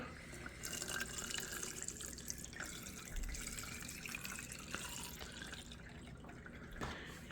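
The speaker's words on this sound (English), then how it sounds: "Now add some water." Water is poured into a container to mix a hydroponic nutrient solution for growing cucumbers, a close, steady splashing trickle lasting several seconds with faint drips, no talking.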